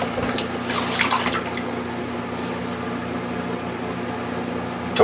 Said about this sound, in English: Hot water rinse to get that slickness off my head.